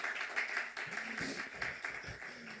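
A church congregation applauding guest Samuel Olivier during a service, a dense continuous wash of many hands clapping at steady level through the whole stretch, with a few louder individual claps standing out.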